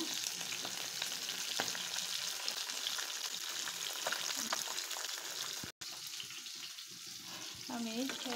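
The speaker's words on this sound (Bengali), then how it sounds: "বাকি যে 2 পিস মাছ ছিল আমি আবার ভেজে নিচ্ছি।" Two pieces of rui fish fry in oil in a pan with a constant loud crackling sizzle, briefly cut off, then resuming while a voice speaks near the end.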